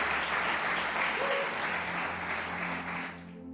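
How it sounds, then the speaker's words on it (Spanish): A church congregation applauds loudly and steadily, a dense crowd clapping that holds for a few seconds before fading slightly at the end. "Lord Jesus a round of applause."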